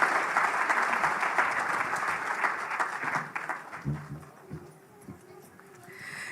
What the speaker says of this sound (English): Another round of applause for Bwana Waziri, please